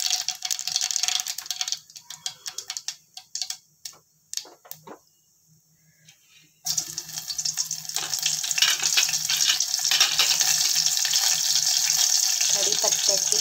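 Cumin, mustard seeds and half a green chilli hit hot oil for a tempering, giving a bright sizzle and crackle that drops to near quiet partway through, then returns as a steady, fuller fry.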